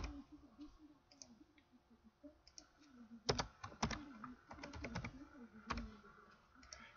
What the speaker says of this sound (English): what we're going to do is type in the word group